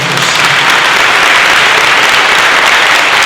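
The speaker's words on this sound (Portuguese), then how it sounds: "Vamos aplaudir a palavra de" A church congregation breaks into loud, dense, sustained applause, a steady roar of many hands clapping close by with no letup.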